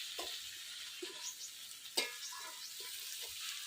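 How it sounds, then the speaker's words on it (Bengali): Dal toasts in the heat of cooked vegetables in a pan, making a gentle, even sizzle close by with repeated light scrapes and clicks as it is stirred. "এই সবজির গরমেই আমার ডাল ভাজা হয়ে যাবে।"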